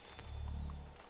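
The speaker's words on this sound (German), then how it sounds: "Das ist jetzt mein Pferd." Faint, rhythmic hoofbeats of a horse in the Assassin's Creed III video game, a soft low clopping that lasts about a second.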